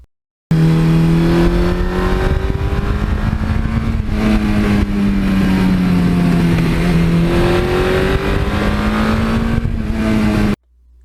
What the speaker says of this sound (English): you can back off the gas and hear that wonderful sound. This bike has a unique sound.